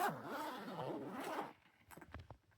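A backpack pocket zipper pulled open in one long, close, quiet rasp, followed by a few soft clicks and rustles of handling.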